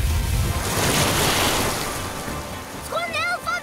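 Cartoon water gushes and rushes down a water slide in a steady loud wash, easing off, with voices and whistly cartoon effects near the end.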